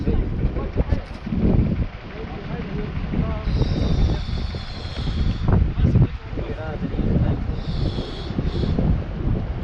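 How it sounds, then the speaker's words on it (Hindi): Icy storm wind at Sach Pass, a high Himalayan mountain pass, buffets the microphone in loud, uneven gusts, and a voice talks over the roar throughout. "बर्फीले तूफानों वाली हवा चल रही है"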